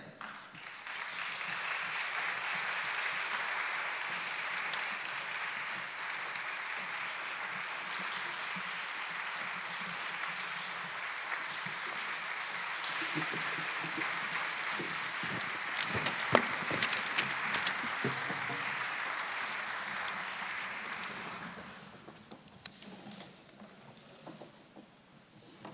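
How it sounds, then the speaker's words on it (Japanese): Sustained audience applause greets the entering candidates at a Fukushima gubernatorial election public debate, a steady dense roar of clapping lasting about twenty seconds before tapering off into quieter room noise. "皆様拍手でお迎えください。"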